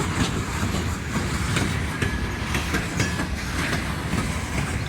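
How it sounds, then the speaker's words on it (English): The last car of a train rolls past in Ashland, Kentucky, with a steady rumbling roar, rhythmic clickety-clack of wheels over rail joints and faint metallic squeal, close by and continuous without talk. "Just in time to catch the very end of the train, the very last car of the train going by."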